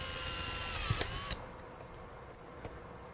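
A drill bores a pilot hole while building power supply test boxes, whining steadily for just over a second before stopping, followed by faint clicks in a quiet room.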